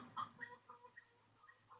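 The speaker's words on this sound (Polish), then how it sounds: "Słychać odgłosy kur." Soft, scattered clucking from a few chickens, quiet and intermittent, with faint background hum and no talking.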